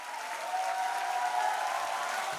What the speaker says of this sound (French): À la fin de la projection, les acteurs sont accueillis avec un tonnerre d'applaudissements.